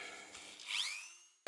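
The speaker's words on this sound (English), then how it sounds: "a little tiny little burr on my Dremel, and I'm going to drill two holes very close together" A Dremel rotary tool fitted with a tiny burr drilling small holes gives a high, thin whine that rises and falls over about a second, close and fairly quiet, ending in a brief click.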